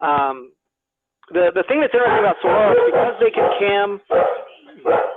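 Several dogs barking indoors in loud, close, repeated bursts with some yips, overlapping and mixing with someone speaking about desert cacti.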